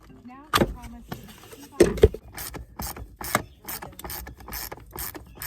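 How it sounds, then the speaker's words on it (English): Clicking of a 45/90-degree ratcheting 1/4-inch screwdriver working on the HVAC fan of a 2004 Honda Odyssey, sharp close ratchet bursts in uneven runs with brief pauses between turns. "does the 45 degree, 90 degree ratcheting 1/4 inch screwdriver make this job easier?"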